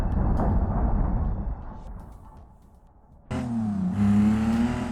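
Ibishu Claira car engine in the BeamNG video game, a steady droning rumble that fades, then jumps into a loud, rising rev with a strained whine as the engine climbs and holds high.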